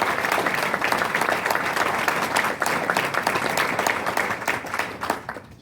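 Sustained applause from an audience at a scholars event fills the room, loud and dense throughout, tapering slightly at the very end.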